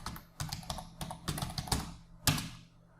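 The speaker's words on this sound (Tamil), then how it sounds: "இப்போ நான் டைப் பண்ணுறேன்" Computer keyboard keys being typed on while entering text in Photoshop, a short burst of irregular close clicks and taps with a final harder keystroke, quiet room and no speech.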